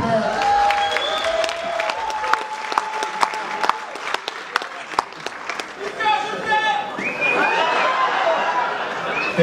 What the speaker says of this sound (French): On les applaudit bien fort, s'il vous plaît.